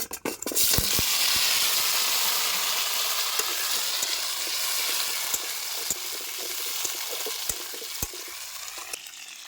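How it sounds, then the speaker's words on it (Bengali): Mustard seeds and soaked olives hit hot oil for olive pickle, bursting into a loud, steady sizzle with scattered pops and stirring clicks that slowly settle. "তেল গরম হয়ে গেছে, দিয়ে দিচ্ছি সরষে।"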